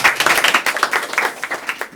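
Brief burst of audience clapping at a Korean talk-show panel discussion on the digital divide, sharp hand claps overlapping into a short, moderately loud round over two seconds.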